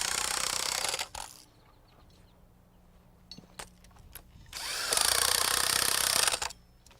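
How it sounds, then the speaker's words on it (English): Impact wrench driving nuts down onto anchor bolts through wooden mud sills during house floor framing, with two loud sustained rattling bursts separated by a quieter stretch of faint clicks and handling noise. "I like to tighten them down with an impact wrench"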